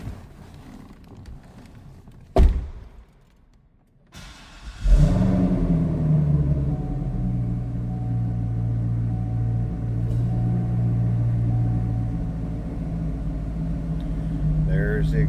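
A 2010 Chevrolet Corvette coupe engine cranks with a sharp burst, briefly drops away, then catches and settles into a loud, steady low idle rumble that holds for the rest of the clip.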